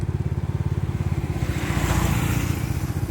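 A vehicle with a pulsing, motorcycle-like engine passes along a paved road near a construction area, its steady putter growing slightly louder and rougher midway.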